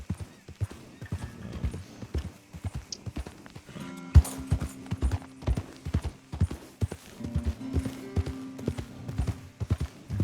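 Horse hooves clip-clopping at a walking pace in the Red Dead Redemption 2 video game, a steady run of distinct close hoof strikes on hard ground with a brief louder knock partway through and faint background sounds.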